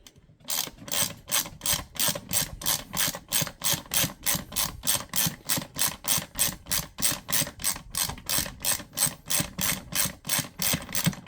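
A bolt on the pivoting arm of a Husqvarna Automower being threaded back into its nut, giving a steady run of regular ratcheting clicks, roughly three per second, close and clear with no talking.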